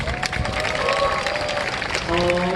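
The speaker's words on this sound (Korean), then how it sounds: "다시 한번 큰 박수 부탁드립니다" A large university student gathering of about 800 applauds a student speaker at a rally, brisk crowd clapping that swells near the end, with a voice carrying over it.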